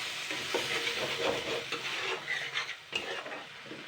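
Water is heating toward a light boil in a pan. A steady, soft hiss and bubbling simmer holds throughout, with faint clicks and small pops, heard close and alone.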